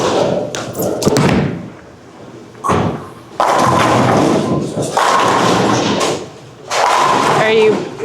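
A bowling ball crashes into pins during a one-on-one match using a Hammer Anger Solid ball. Several loud, clattering thuds come in separate bursts, with quieter gaps between them and voices nearby.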